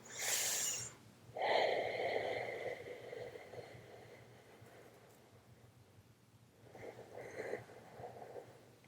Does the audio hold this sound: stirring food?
no